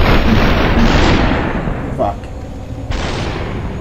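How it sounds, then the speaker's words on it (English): Machine gun fire in the video game Superhot rattles loudly in a dense, continuous burst with a sharp crack near the middle and another surge toward the end, mixed with other game sounds and a voice. "I'm never accurate with this damn machine gun"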